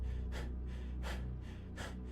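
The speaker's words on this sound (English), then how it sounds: "Yeah, stop your breathing." A character in Cataclysm DDA breathes heavily in three sharp, gasping breaths spaced evenly about every three-quarters of a second, close and fairly quiet, with no talk.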